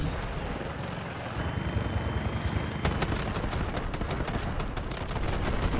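A Cyclone helicopter flies in the Delta Force video game, its steady rotor thrum joined by rapid bursts of machine-gun fire that grow into continuous loud shooting.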